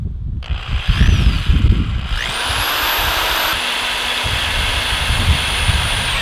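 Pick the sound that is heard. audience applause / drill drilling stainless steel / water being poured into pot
drill drilling stainless steel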